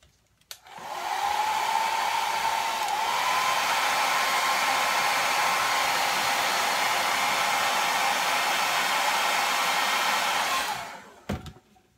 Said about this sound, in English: I'm gonna use the blow dryer again and then attach the body.